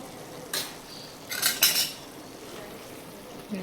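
Turmeric powder stirred into oil in a pot, a few bright metal spoon scrapes against the pot in short bursts over a quiet background.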